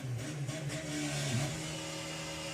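Mark II Golf drag cars accelerating off the line at Santa Pod during VW drag racing eliminations, a steady loud engine drone with gear-like pitch shifts and no gaps, fairly close.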